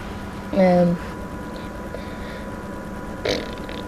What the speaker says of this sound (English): I burped during a video again.